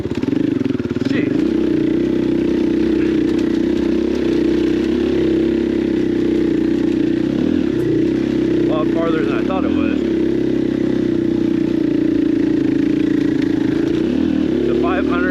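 A 500 trail motorcycle on an off-highway trail holds a steady, loud engine drone at low throttle with slight revving, running continuously under a rider's speech.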